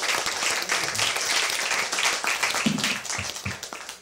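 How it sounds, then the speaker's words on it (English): An audience applauds a debater after a debate on the historicity of Jesus, sustained clapping from a room full of people that stays even and fairly loud, then thins toward the end as a few louder individual claps stand out. "Another round of applause, please, for Dr. Lehman."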